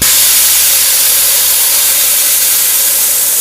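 Raw fish braising with salt and turmeric in a covered pan gives a loud, steady hiss of sizzling that runs unbroken from start to finish with no talk over it.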